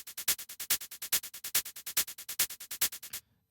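Offbeat groove on a Korg Electribe 2 for a Goa trance track: a steady, fast run of bright, punchy electronic hits with accented beats falling between kicks, looping evenly and loud, then stopping abruptly near the end.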